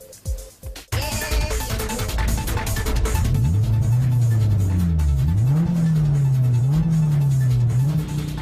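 A Honda S2000 revs hard on a race circuit, its engine note climbing and falling through loud, sustained rising sweeps after an abrupt start, with a brief tire chirp.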